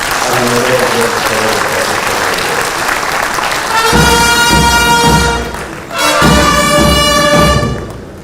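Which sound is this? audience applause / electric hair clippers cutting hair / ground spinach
audience applause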